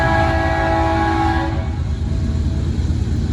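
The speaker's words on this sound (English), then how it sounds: "here comes this train, CSX with Union Pacific," CSX heavy coal train with a Union Pacific locomotive leading sounds its horn loudly and close at a busy crossing at night, the sustained blast cutting off after about a second and a half, leaving a heavy rumble of rolling cars.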